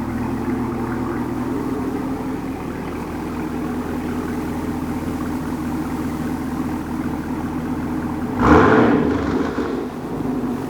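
Car exhaust fitted with a Borla X-pipe and Corsa axle-back idles on a cold start, a steady low rumbling drone with one brief rev burst near the end, no talking heard.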